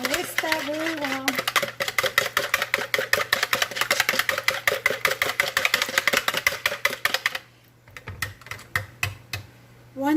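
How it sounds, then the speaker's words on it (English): Three eggs whisked briskly in a bowl, a rapid, even run of close clicking and tapping strokes that briefly pauses near the end, with a voice heard speaking at the start. "You're going to want to whisk that very well."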